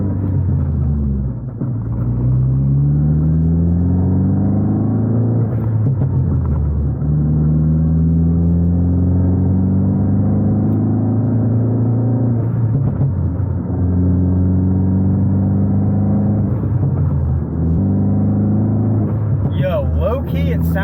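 A car engine running rough after a motor mount failure, a low, continuous droning rumble from inside the car that rises and falls in pitch as it revs and shifts, with a short voice near the end.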